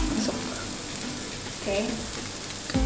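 Chilies and shallots sauté in oil in a pan with a soft, steady sizzle and a few scraping stirs, and someone says one short word over it.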